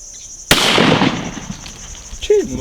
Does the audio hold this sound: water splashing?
no